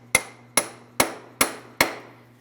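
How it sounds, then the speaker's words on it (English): Five sharp metallic hammer blows on a punch driven into the center of a front passenger-side CV axle on a 2005-2010 Chrysler 300 5.7L, evenly spaced about half a second apart, loud and close with ringing decay, no talk. "Continue on with a hammer and punch directly in the center of the axle."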